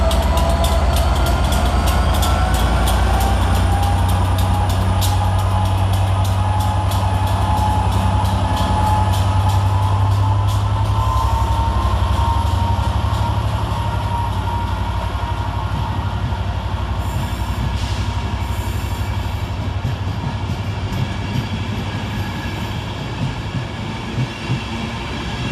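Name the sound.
Class 67 locomotive 67008 hauling Transport for Wales train departing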